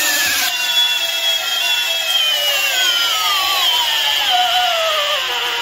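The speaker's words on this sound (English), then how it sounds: "The Flex hammer drill, and it has a 6-amp-hour lithium pouch cell battery." A Flex hammer drill on a 6-amp-hour lithium pouch cell battery runs under load in a torque test, its loud, steady motor whine starting abruptly and sliding gradually lower in pitch as it strains.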